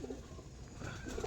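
Pigeons coo softly in a short burst, low rolling calls under a steady background hum, with no voices.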